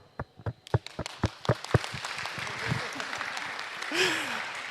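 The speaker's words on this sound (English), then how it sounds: "Clap." Scattered hand claps from an audience at a formal certificate presentation for a Guam senator, starting as separate sharp claps and swelling into brief applause, with voices murmuring underneath.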